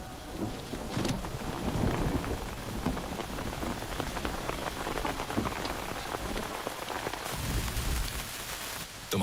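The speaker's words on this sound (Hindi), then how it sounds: "यहाँ पर बारिश हो रही है" Steady heavy rain pours down on a surface in a dense, continuous hiss, with occasional louder drops and a low rumble underneath.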